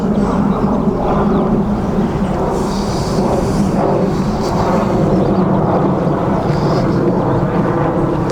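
Airliners descend over a graveyard on the approach to Birmingham Airport, a loud, continuous low roar that fills the whole stretch without letup.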